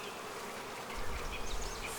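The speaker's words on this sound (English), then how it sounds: "Oh, that's a lot of bees." Honey bees swarm around an opened hive outdoors, a dense close buzzing that swells louder partway through, with a little wind noise.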